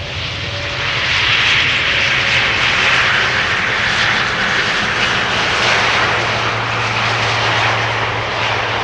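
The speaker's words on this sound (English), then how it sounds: "Sounds like idle reversers. The slots are open, but the engines aren't spooling up." Steady, loud roar of jet airliner engines at idle with reversers deployed on landing at Amsterdam Schiphol Airport, a broad rushing whoosh that holds without spooling up.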